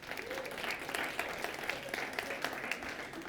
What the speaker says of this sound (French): on les applaudit également